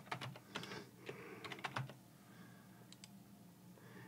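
Keys clatter on a computer keyboard as a username is entered into an account setup form, a quick burst of close, crisp keystrokes that pauses and then adds a few scattered taps.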